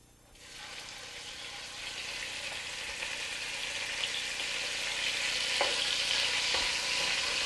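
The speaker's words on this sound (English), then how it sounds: "I'm going to add the beef and I'm doing it in batches." Beef browning in hot olive oil, one batch at a time: a loud, steady sizzle starts abruptly and keeps spitting and crackling, with a couple of faint utensil taps near the end.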